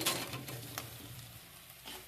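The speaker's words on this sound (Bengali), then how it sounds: "ভাজা এবার কাঁকড়াগুলো মশলার মধ্যে দিয়ে দিচ্ছি" Fried sea crabs tossed into a cooked-down spice paste hiss and crackle softly in the pan, a faint sizzle broken by a few stirring clatters.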